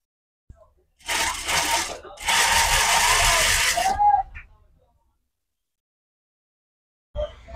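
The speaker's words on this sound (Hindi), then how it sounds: "इसको बस आपने एक पीछे हल्का सा हाथ रखना है और आपने सिलाई लगा देनी है।" A sewing machine stitches trouser fabric in two close, loud mechanical bursts of rapid whirring, about one and two seconds long. Silence follows, then a short final burst of noise at the end.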